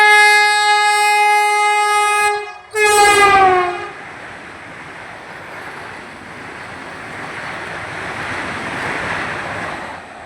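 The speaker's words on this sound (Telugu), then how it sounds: "అయ్యో వందే భారత్ రైలు రానే రావట్టే" A Vande Bharat train sounds a long, loud, sustained horn that breaks off abruptly, then drops into a steady rushing rumble of the train passing close by.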